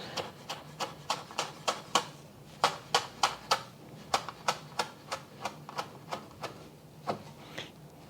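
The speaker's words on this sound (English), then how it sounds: "Just trying to make it easier to chop" Knife chopping herb leaves into thin chiffonade strips on a cutting board for Thai yellow curry, a steady run of about two dozen crisp close taps at a brisk, slightly uneven rhythm, with no voices.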